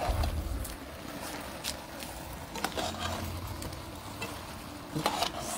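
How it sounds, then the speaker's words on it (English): Geera seasoning stirred into ribs in a pot outdoors in a garden, with steady scraping and soft sizzling at a moderate level, a few sharper clinks of the utensil against the pot. "Stir this in."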